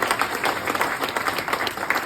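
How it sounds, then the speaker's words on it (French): Indoor audience at a conference on air quality and health gives steady, dense applause, many hands clapping together at close range with no pauses. "Vous pouvez applaudir Corinne."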